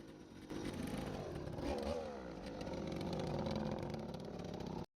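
A Hero Puch moped pulls away in first gear, its small engine starting a steady close buzzing drone after a brief quieter moment. The drone holds evenly and then cuts off abruptly at the end.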